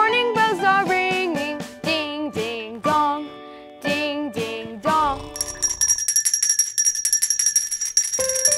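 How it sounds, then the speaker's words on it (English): A handheld bell rings in a quick, bright jingle right after a voice sings a children's nursery rhyme, with the ringing heard alone at the end. "I've got to sing and ring my bell even louder this time."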